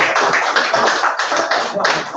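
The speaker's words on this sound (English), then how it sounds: "Please give me a round of applause. You can clap it, please" Dense audience clapping fills a talk event, a steady crowd patter of many hands held at an even, fairly loud level throughout.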